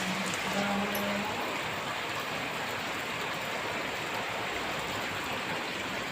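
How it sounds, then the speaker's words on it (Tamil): Heavy rain pours in a dense, unbroken hiss, loud and constant, with a brief low tone near the start. "அவ்வளோ மழை பெஞ்சிட்டு இருக்கு"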